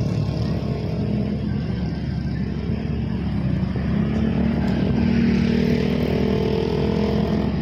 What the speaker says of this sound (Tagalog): Iba-ibang motor makikita nyo dito.